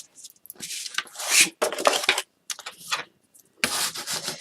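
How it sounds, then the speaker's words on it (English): Paper covering on a chipboard album cover gets burnished in repeated scraping, rubbing strokes, close and irregular, with short pauses between bursts. "I'm just going to burnish all over"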